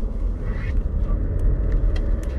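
A Ford Focus 1.0 EcoBoost ST-Line 125 hp with traction control on, pulling out of a roundabout: a steady, low engine and road rumble throughout, close and even, with no talking.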